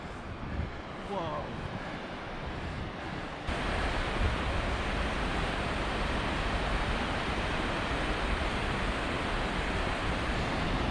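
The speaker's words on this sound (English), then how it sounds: "The horseshoe waterfall" Godafoss, the horseshoe-shaped waterfall in Iceland, roars steadily in heavy snow, a dense unbroken rush of falling water that grows fuller and louder after the first few seconds.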